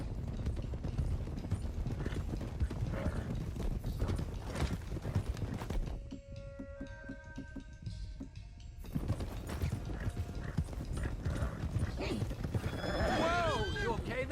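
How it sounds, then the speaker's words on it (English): Horses in the Red Dead Redemption 2 video game clip-clop along at a trot with a steady rush of hoofbeats, pausing briefly, then resuming before one horse gives a clear whinny near the end. "Let's get these horses to Clemens Cove, quick, before we run into any more trouble."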